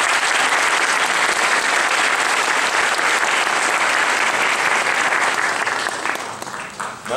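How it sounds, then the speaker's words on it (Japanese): Sustained audience applause for senior Sato at a 2013 awards seminar, dense and steady throughout before thinning toward the end. "今一度佐藤先輩に大きな拍手をよろしくお願いいたします"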